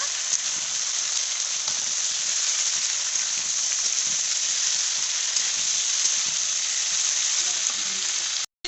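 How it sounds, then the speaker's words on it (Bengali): A loud, steady sizzle of moringa drumsticks frying in hot oil fills the whole stretch, with faint scraping of stirring underneath. "বেশ একটু লাল লাল করে ভাজা ভাজা করব।"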